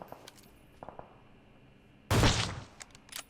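Groza assault rifle fire in a Thai-commentated shooter game: a sharp, loud burst erupts partway through after quieter scattered clicks, followed by a few faint trailing shots.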